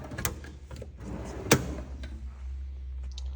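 A drawer on a garage tool box slides, with low rumbling movement and one sharp clack near the middle, fairly quiet with no voices.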